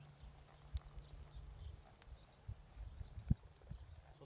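A horse's hooves walk in a circle, quiet irregular clip-clop steps on the ground at close range, with faint background noise and no talk.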